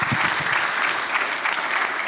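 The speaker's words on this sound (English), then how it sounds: "Give him a very warm applause, because this is a master filmmaker," Warm applause from an audience at a documentary talk event honouring a filmmaker, a dense, loud and continuous wash of clapping from many hands with no break.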